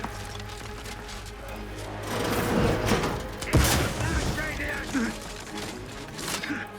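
A grenade blast in The Outer Worlds 2 amid a firefight: one heavy boom partway through, surrounded by gunfire and game effects, with voices calling out over the combat.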